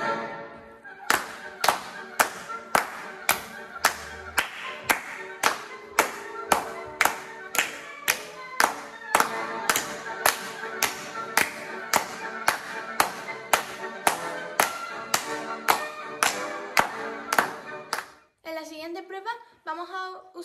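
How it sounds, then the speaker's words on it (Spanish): Hand clapping keeps a steady, even beat along to a song, crisp sharp claps repeating for most of the stretch before the rhythm stops and only the music carries on briefly. "tenéis que seguir el ritmo con las palmas"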